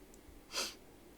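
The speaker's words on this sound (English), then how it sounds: "sorry about the sniffling and stuff this morning" A single short, airy sniff through the nose, faint and close, in an otherwise quiet moment.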